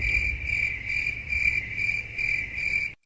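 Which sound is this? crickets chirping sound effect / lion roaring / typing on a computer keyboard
crickets chirping sound effect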